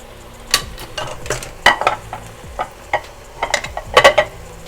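Chicken and eggs stir-fried for Chinese rice: irregular clanks and scrapes of a spatula against the pan over a low sizzle, close and fairly loud, with no voices.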